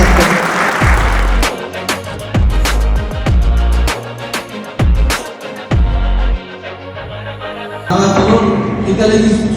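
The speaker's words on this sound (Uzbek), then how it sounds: "Italiyadan tashrif buyurgan mehmonlarimiz uchun qarsaklarni balandroq chalsak yaxshi" Audience applause for visiting Italian guests at a Novacolor ambassador event in Uzbekistan, rising under heavy booming beats and a voice talking, with the clapping swelling in bursts.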